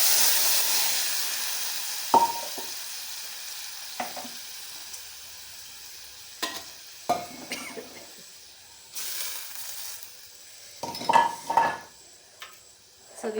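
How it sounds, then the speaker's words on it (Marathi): A sizzling tempering takes in cooked moong, drumstick and toor dal: a loud hiss at first that quickly dies away, then scattered clanks and scrapes of a spoon against the pot over a quiet background. "मस्त अशी फोडणी झाली आणि आपल्याला हे त्यात घालायचं आहे"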